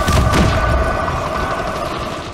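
Gunfire in Call of Duty Warzone booms close and loud at the start, then settles into a dense, rumbling roar of shots that slowly fades.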